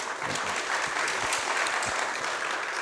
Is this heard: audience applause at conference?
yes